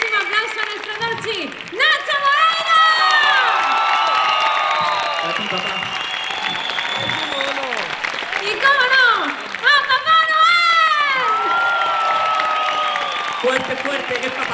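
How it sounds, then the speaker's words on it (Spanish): Crowd at a PortAventura World season-finale show applauding and cheering beneath a loud, lively announcer's voice, with the clapping swelling in bursts alongside the talk. "Quiero que den también un fuertísimo aplauso a nuestro Dolci."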